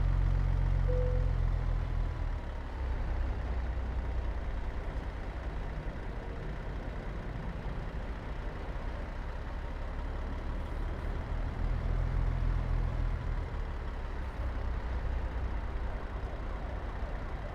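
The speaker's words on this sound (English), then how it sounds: "This is a pretty big truck." The big diesel engine of a Peterbilt 389-style rig hauling a step deck trailer in American Truck Simulator drones steadily and loudly throughout, with a deeper rumbling surge near the start and again around the middle, with no talking.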